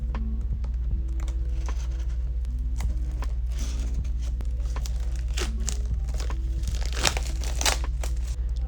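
Plastic packaging crinkles and rustles up close as it is snipped and torn open, with a low steady hum underneath.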